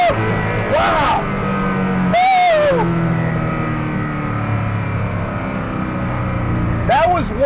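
Hennessey Venom F5 hypercar in sport mode accelerating hard, its engine note climbing and droning steadily from inside the cabin, with short voiced exclamations cutting in near the start and end.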